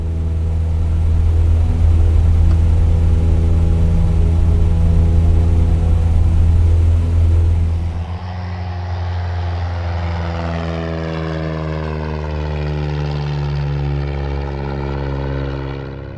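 Cessna 172 piston engine in Microsoft Flight Simulator drones steadily and loudly with a strong low propeller hum, then shifts at about eight seconds to a smoother, slightly quieter tone with rising harmonics, heard alone.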